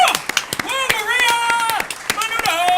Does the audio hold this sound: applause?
yes